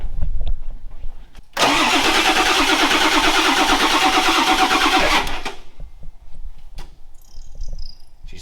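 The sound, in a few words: 1977 Ford truck engine starting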